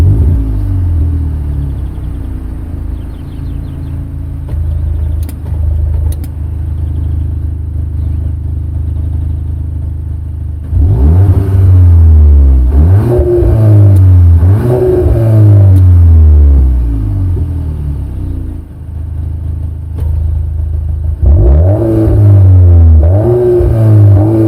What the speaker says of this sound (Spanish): vamos a arrancar el coche y escuchemos cómo suena